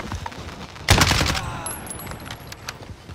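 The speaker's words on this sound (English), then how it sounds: "Who's shooting? Me." Video game gunfire: a loud close burst of shots about a second in, followed by decaying reverberant echoes and scattered fainter pops.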